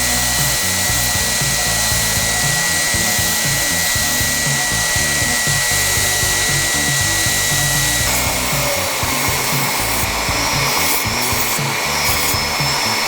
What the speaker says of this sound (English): let's do a little sanding on it